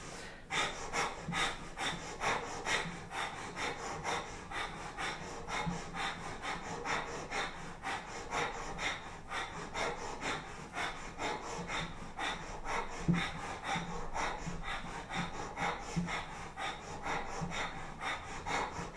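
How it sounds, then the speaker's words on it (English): Breath of fire, rapid yogic breathing during a kundalini kriya, a fast, even train of forceful nasal exhalations repeating for the whole stretch, close and steady. "Breath of fire."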